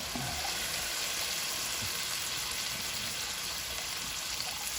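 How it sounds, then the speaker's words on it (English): Japanese wagyu ossobuco searing in melted butter in a pan, a loud, unbroken sizzling hiss with small pops, close and steady, no talking. "I will then sear my meat."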